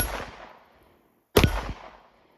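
Two sharp pistol shots from a Sig Sauer P365 FUSE at an outdoor range, about 1.4 seconds apart, each a loud close crack followed by a fading echo.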